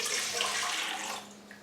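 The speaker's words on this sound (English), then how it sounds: "I will then pour that into a medium-sized bowl." Coconut water pours into a medium-sized bowl in a kitchen, a soft steady splashing stream that eases off toward the end of a short moment, heard alone.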